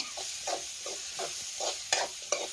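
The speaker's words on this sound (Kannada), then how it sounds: "ನಾನು ಕುಂಬಳಕಾಯಿ ಫ್ರೈ ಮಾಡಿರ್ತೀನಿ ಇವಾಗ ಹಾಕ್ಲತ್ತೀನಿ ನೋಡ್ರಿ" Fried pumpkin pieces go into a hot, oily pan and are stirred, giving a soft steady sizzle broken by rhythmic scraping strokes and two sharp utensil clinks near the end, with no talking.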